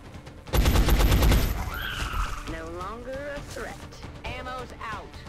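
Rapid burst of gunfire in XCOM: Enemy Unknown, loud, fast repeated shots lasting about a second, followed by a voice speaking over quieter background.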